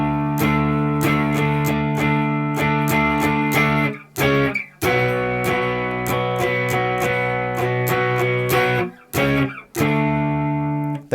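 Electric guitar from a guitar lesson, played as single down strums on each chord: a steady run of sustained, ringing strummed chords with brief gaps where the chords change, close and clear with no talking.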